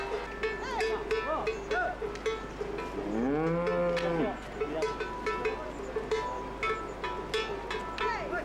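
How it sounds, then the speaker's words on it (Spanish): Cows and calves gathering into a herd in the Pyrenees near Bujaruelo during a mountain transhumance; one loud, drawn-out moo stands out mid-clip over scattered clanks and the general commotion of the herd. "vacas y terneros conforman ya el rebaño"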